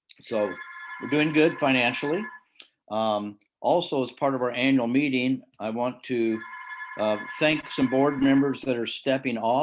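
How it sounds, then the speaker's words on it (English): A telephone bell rings through a spoken address at an annual meeting and service celebration, sounding in two separate bursts behind the continuous talk. "Sorry about the phone."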